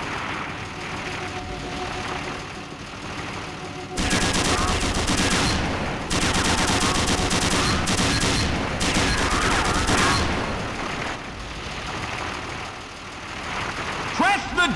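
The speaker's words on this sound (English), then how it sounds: "To fire the machine gun" Machine gun fire from a vehicle-mounted weapon inside an asteroid in Gunman Chronicles, loud sustained bursts starting and stopping over an engine hum, with game sounds between volleys.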